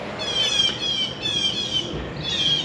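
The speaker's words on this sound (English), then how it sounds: "these birds are loud today." Birds call outdoors near a house, giving repeated high, thin chirps in short bursts over a steady background hiss.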